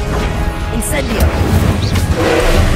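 An Incendio spell cast in Hogwarts Legacy during the Percival Rackham trial produces loud crashing, booming blasts amid busy game noise, with a voice audible at times.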